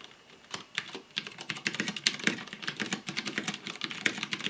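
Rapid, steady typing on a Pok3r mechanical keyboard fitted with Cherry MX Clear switches, each keystroke a crisp, close clack in an irregular flowing rhythm, with no voices.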